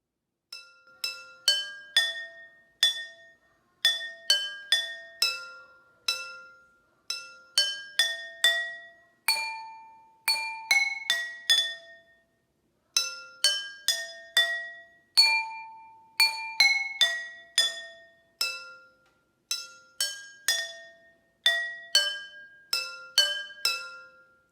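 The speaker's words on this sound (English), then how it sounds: "Now I added water to each glass, and I was trying to be pretty specific so I could get a good note out" Water-filled drinking glasses are struck one at a time as musical notes, giving clear ringing chimes in quick melodic runs with short pauses between phrases, each tone bright and decaying cleanly, with no talking.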